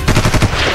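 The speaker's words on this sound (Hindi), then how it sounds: "गोलियां चली" Gunfire during the 26/11 terrorist attack on the Taj Hotel in Mumbai: a loud, rapid burst of machine-gun shots, densely overlapping and close, with no voices.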